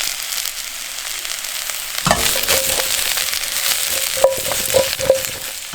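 Mushrooms hit a hot pan of olive oil with thyme and rosemary, launching into a loud, steady sizzle about two seconds in, with sharp pops and crackles spiking through the continuous frying hiss.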